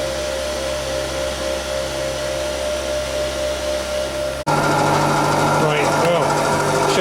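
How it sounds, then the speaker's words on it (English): A heater fan motor with a worn bearing runs with a steady, droning whine and hum that jumps louder and rougher partway through, carrying a persistent grinding edge. "I've got this one running and you can hear the bearing on that."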